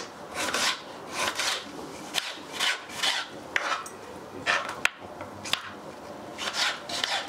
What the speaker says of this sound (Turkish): Bunları da çok ince doğruyoruz herhalde.